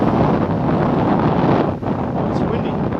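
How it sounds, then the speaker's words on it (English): Wind buffets a microphone outdoors, a loud constant low rumble that holds the whole time with one brief dip. "It's windy."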